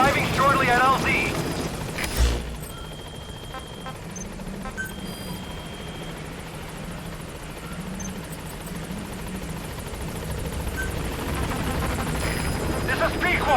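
B-Quad support helicopter arriving in Metal Gear Solid 5, a continuous rotor thrum and engine roar that swells and holds, with radio-style voices over it.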